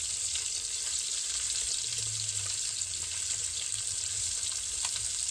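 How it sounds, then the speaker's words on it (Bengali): Several river fish fry together in a generous amount of oil, giving a constant, even sizzling hiss throughout with small pops scattered over it. "যেহেতু একটু বেশি তেল রয়েছে ভাজা হয়ে যাবে"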